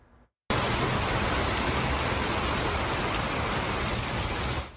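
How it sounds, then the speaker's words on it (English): Heavy monsoon rain pours down across the Phoenix valley near I-17 in Glendale. It starts abruptly as a dense, steady hiss that stays loud and unbroken to the end. "More heavy rain across the valley."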